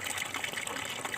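Water runs steadily from a faucet at the sink, a faint continuous gushing hiss.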